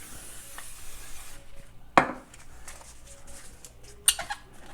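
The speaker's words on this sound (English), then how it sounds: "while this is simmering, we will brown our ground beef" A pound of 80/20 ground beef browns in a pan for lasagna: a steady sizzle for the first second or so, then quieter cooking with two sharp utensil clacks against the pan.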